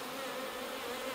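Honeybees buzz around three newly installed nuc hives in an open field, a steady close hum of many wings filling the brief moment without any voices.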